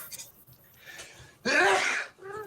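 A single sharp, loud sneeze from a person in a home, preceded by a short inhaling gasp and followed by a brief trailing voice sound.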